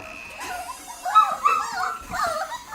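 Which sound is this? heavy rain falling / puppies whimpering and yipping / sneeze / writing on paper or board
puppies whimpering and yipping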